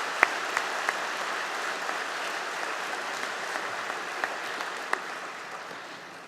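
An audience at a university convocation ceremony applauds steadily in a large hall, a dense sustained clapping wash with a few sharper individual claps standing out.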